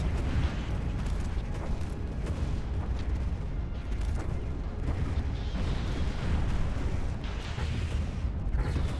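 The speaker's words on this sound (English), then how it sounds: "Ooh, another explosion." Explosions from Stellaris, a space strategy video game, roll on as a continuous heavy rumble with repeated booming bursts throughout.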